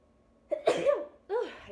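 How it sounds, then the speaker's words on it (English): A single person sneezes indoors, a sharp close burst followed by a second shorter exhaled sound, alone and fairly quiet. "Oh, I sneezed again."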